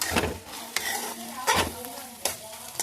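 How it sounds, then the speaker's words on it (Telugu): White eggplant pieces being stir-fried in a pan for an Andhra-style gutti vankaya fry: close, steady sizzling with several sharp scraping stirs of a spatula against the pan, no talking. "చూడండి వంకాయ వేపుతున్నాను, చాలా బాగా వస్తాయండి"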